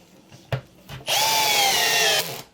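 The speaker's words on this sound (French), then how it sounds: "Et maintenant on visse sans" A power screwdriver whirs loudly for about a second while driving a screw into a range hood cabinet during assembly, preceded by a couple of sharp handling knocks and followed by a brief taper as it stops.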